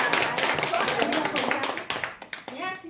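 Audience clapping at the close of a stress-management training session, a burst of many hands that thins out into a few scattered claps as it fades, with faint voices underneath.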